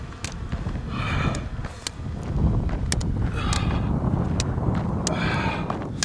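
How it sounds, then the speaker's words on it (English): Strong wind during a long-distance run across Utah roars and buffets against the microphone in gusty, rumbling waves, with brief crackling rattles throughout. "I knew that we were in for quite a windy day"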